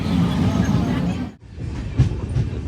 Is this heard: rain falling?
no